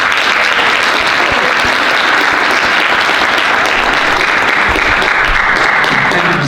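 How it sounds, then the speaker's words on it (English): A school assembly audience gives a loud, sustained round of applause, dense steady clapping filling the whole stretch without pause. "So a big round of applause for Mr. Bielicki."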